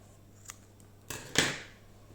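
Scissors snip through trapilho t-shirt yarn during a crochet basket project, with a small click followed by two sharp close cuts in quick succession.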